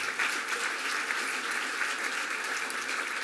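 Audience at a leadership event clapping for several people standing up, a sustained round of applause filling the room, steady and moderately loud with no talk over it.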